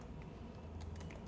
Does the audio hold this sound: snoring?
no